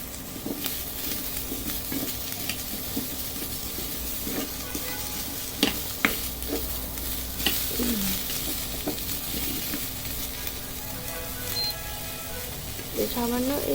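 Garlic, onion, and green chilies fry together in a pan, a continuous soft sizzle with occasional stirring clinks and scrapes, moderately quiet throughout, and a voice is briefly heard near the end.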